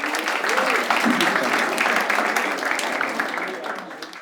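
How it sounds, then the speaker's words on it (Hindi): An audience at a stand-up comedy show breaks into loud, sustained applause that continues steadily, with voices mixed in beneath the clapping before it eases slightly at the end. "एक बार ताली बजा दो।"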